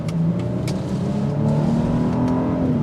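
A 2023 Genesis GV80 luxury SUV accelerating in sport mode, its engine note rising steadily and loud throughout, heard from inside the cabin with no talking.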